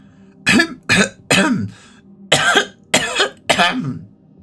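Six or seven harsh, hacking coughs come in two close clusters with a brief pause between, loud and near.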